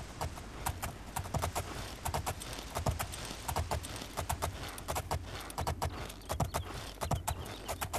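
Rapid, rhythmic clip-clop of horse hooves trotting steadily throughout in the video game The Elder Scrolls IV: Oblivion, crisp and close, with a faint synthetic background hum.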